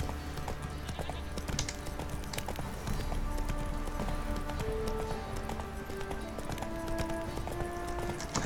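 Horse hooves cantering in The Witcher 3: Wild Hunt, an even clip-clop rhythm running throughout at moderate volume beneath game music and ambience.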